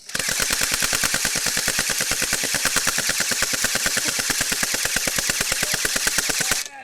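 A homemade airsoft robot fires BBs in a long, fast, evenly spaced stream of sharp loud pops lasting several seconds before stopping abruptly, with no voices.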